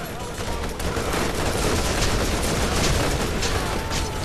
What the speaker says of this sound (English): Just keep shooting! Don't stop firing!